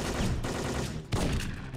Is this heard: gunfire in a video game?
yes